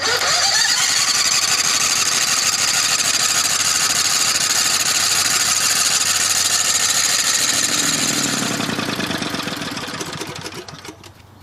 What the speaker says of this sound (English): they've done everything they realistically can to make the lawnmower run on biogas